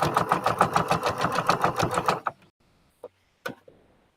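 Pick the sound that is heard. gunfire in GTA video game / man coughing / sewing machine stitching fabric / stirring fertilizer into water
sewing machine stitching fabric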